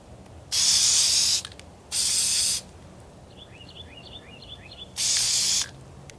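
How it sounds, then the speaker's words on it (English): A spray can sprays onto foam coated in Mod Podge in three loud, close hissing bursts of about a second each, with faint chirping bird calls in the gap between them. "So I'm gonna go ahead and spray it and we'll see."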